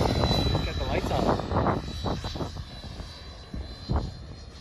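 A low-flying airplane with landing lights on passes through a gap between trees, giving a loud, continuous engine roar that swells and fades slightly, with people talking over it.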